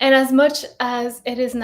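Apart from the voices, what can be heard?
None of the usual background noises is heard.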